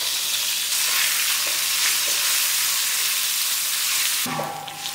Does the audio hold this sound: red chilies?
yes